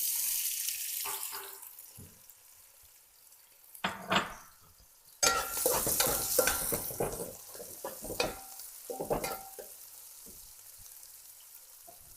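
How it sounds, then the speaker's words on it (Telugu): Sliced large onions for mutton biryani frying in a pan, with bursts of sizzle and stirring scrapes that swell and fade between quieter stretches. "నేను 1 కప్పు ఆనియన్ అంటే దాదాపు 2 ఉల్లిగడ్డలు పెద్దవి ఇవి వేసుకొని దీన్ని ఫ్రై చేసుకుందాం"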